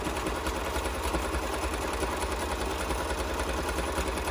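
Sewing machine running steadily while stitching down the pockets of a fabric tool belt, a continuous even mechanical whir with a fast, regular stitching rhythm, close and moderately loud throughout.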